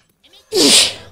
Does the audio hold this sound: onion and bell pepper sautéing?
no